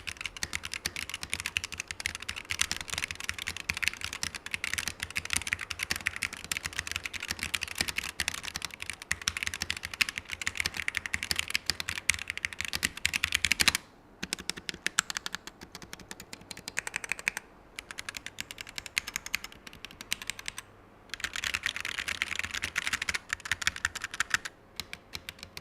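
Steady, rapid typing on a Logitech G Pro X 60 keyboard with optical switches, a dense stream of close keystrokes with a few brief pauses, no voices.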